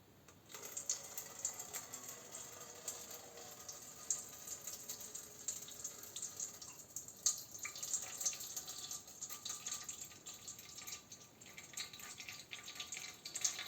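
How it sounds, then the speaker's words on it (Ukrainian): Water drains off steamed poppy seeds for a pastry filling in a steady, faint trickle and patter that runs unbroken under light kitchen clatter, with no talking. "От тепер ми зливаємо всю воду."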